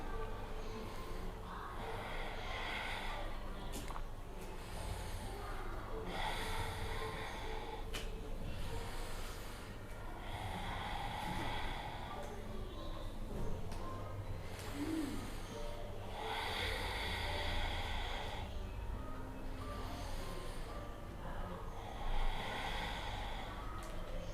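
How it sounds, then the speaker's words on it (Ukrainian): Slow, audible breathing while holding a yoga forward bend during a balance practice, with soft breaths repeating every few seconds over a steady quiet background. "Стоїмо, дихаємо."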